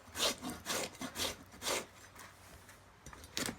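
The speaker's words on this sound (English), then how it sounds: "I'm using a really rough side of the rasp." A rough rasp files a horse hoof flat in a series of soft, rhythmic scraping strokes, faint and close, with a short pause before a final stroke and no talk.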